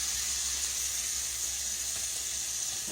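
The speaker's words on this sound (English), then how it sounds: "you've got your grease in there, and you sprinkle a little flour in it" Flour sprinkled into hot chicken-frying grease sizzles in a steady, bright hiss, close and even for the whole stretch, with a faint low hum beneath and no voices.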